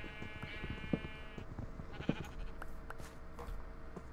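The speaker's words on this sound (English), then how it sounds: "A lot of sheep." Sheep in Minecraft give a few quiet bleats, some overlapping, over faint ambient game sound with no voices.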